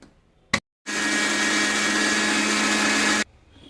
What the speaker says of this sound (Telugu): ఇప్పుడైతే మూత పెట్టేసుకొని మిక్సీ పట్టుకుందాము